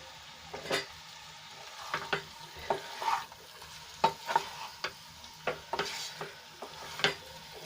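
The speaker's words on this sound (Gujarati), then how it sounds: "હવે એક મિનિટ માટે આપણે એને સંતળાવા દઈશું અને ઉપર નીચે આપણે એને ફેરવી લઈશું" A spoon stirs and turns garlicky dry potato curry sautéing in a pan, with repeated scraping knocks at an uneven rhythm over a soft, continuous sizzle.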